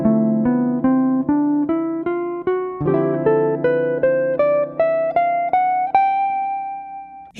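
A bebop dominant scale climbs note by note on a melodic instrument, about a dozen evenly spaced tones rising steadily, clear and close with no talk.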